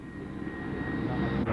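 A Navy airplane flies at an air show, its engine a steady, moderately distant drone that grows slightly louder toward the end.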